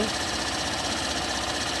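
Vehicle engine running at a steady idle, a dense continuous hum with a faint rhythmic chug, close by and unchanging throughout.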